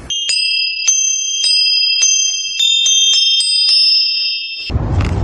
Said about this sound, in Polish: Talerzyki są ułożone równolegle do podłoża, troszkę na kształt cymbałów czy dzwonków, a brzmią one tak.